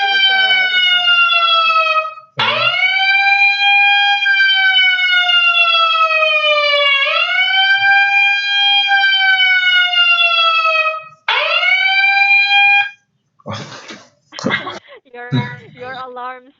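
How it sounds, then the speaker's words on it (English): A loud electronic alarm wails in rising, sweeping tones, repeating several cycles, then breaks into choppy warbling bursts near the end; close and dominant. "Your alarm sounds very unique."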